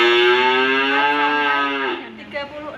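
A beef cow gives one long, loud, close moo that holds steady for about two seconds before trailing off, followed by a faint shorter sound.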